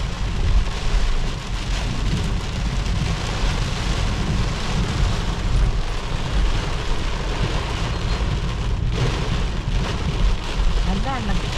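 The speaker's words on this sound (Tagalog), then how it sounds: "Kumukulog talaga man." Heavy rain pours steadily with deep thunder rumbling underneath during a storm at an outdoor Manila food festival in Toronto, a dense constant roar from start to finish.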